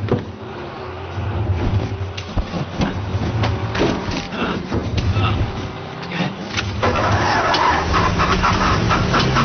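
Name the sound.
car engine failing to start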